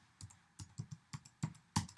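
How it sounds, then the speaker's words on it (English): Someone types on a computer keyboard: a handful of distinct key clicks in an irregular rhythm, quiet and close, with the last strike the sharpest and no talk over them. "And by simply typing"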